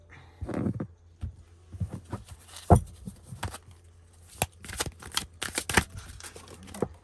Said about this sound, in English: So now let's give these cards a pull just to see what card we get